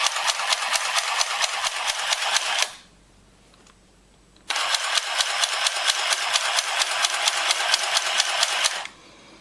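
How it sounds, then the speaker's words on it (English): A Singer Handy Stitch handheld sewing machine stitching fabric, a fast even clatter of needle strokes in two runs of several seconds each, separated by a short quiet pause, close and distinct. "After sewing a couple of inches, bring your hand forward and start sewing again"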